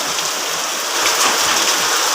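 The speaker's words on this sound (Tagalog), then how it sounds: "Ayan, lakas na lalo ng ulan guys." Heavy rain from Typhoon Carina pours down steadily, a dense, loud hiss of drops on surfaces that swells louder partway through, with no voices heard.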